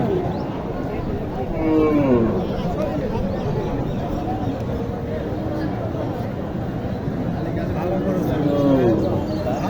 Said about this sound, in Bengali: এখানে যে গরুকে দেখছেন এটা ক্রস গরু